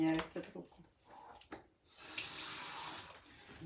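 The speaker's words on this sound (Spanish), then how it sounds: "Que tengo un poquito de agua. La echo ahí." A small amount of water poured out while preparing coconut majarete, a soft splash and running trickle that swells into a steady wash after some brief clatter, moderately close and fairly quiet.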